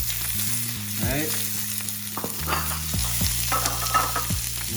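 Caramelized onions, mushroom trimmings and artichokes sizzle steadily in a hot pan as they are stirred and warmed through, a continuous close frying hiss with scraping stirs and no talk.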